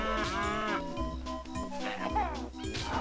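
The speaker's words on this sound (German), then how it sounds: "wie die Kuh vom Berg" A cow moos in the Banjo-Kazooie video game, a couple of drawn-out low calls layered over game music and effects.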